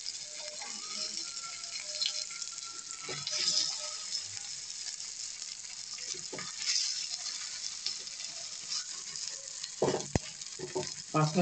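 Hilsa fish pieces, cut and coated in spice, fry in a pan with a steady hissing sizzle close by, while occasional clinks and scrapes of a spatula break through the sizzle.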